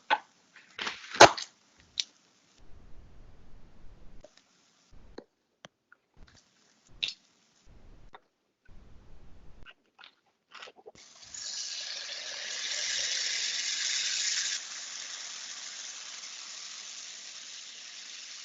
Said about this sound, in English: I'm going to add 2 cups of coconut milk